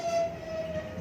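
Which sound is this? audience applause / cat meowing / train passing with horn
train passing with horn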